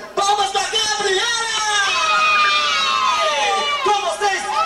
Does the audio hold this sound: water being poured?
no